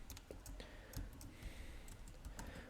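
Code being typed on a computer keyboard: quick irregular clusters of sharp key clicks close by, with brief pauses between bursts and no talking.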